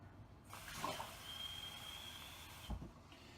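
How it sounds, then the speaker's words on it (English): Cold water running into a shaker cup holding fruit squash, a short close pour with a rising hiss that stops abruptly with a light knock. "I am then going to fill this up with cold water"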